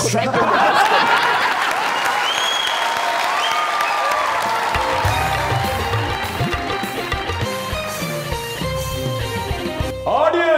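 Studio audience applause on a comedy talk show, a loud sustained clatter of many hands with scattered laughter and music running underneath throughout.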